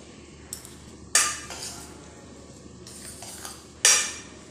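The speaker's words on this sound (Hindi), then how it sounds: "हींग डालने के बाद हम इसे मिक्स कर लेंगे।" Asafoetida being stirred into flour in a bowl, with a few soft scrapes and two sharp clinks of a utensil against the bowl, close and fairly quiet, with no voices.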